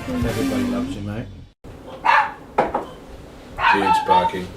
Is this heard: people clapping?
no